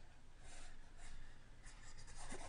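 A pencil eraser rubs back and forth on paper, close and fairly quiet, in steady continuous strokes with no talking.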